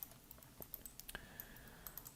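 Computer keyboard keys clicking close by in quiet surroundings, a handful of light, separate taps spread irregularly across the moment, with no voice over them.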